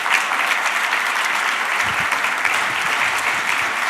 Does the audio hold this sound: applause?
yes